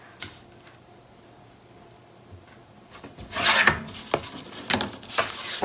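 Paper for a scrapbook cover being trimmed, quiet at first, then a run of close scraping, rasping strokes with short irregular bursts toward the end, no talk.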